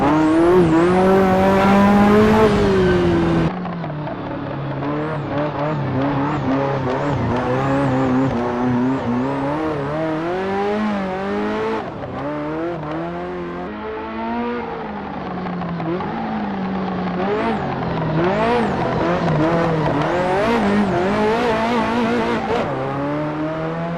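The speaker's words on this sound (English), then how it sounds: "We turn in, rear comes around, very careful with the throttle" A Ferrari F40 drifting in rear-wheel-drive practice, its engine loud and close, revving and falling with the throttle, tires squealing through the slides, with a short lift and change of note early on before it pulls hard again.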